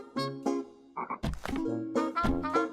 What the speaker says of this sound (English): A frog.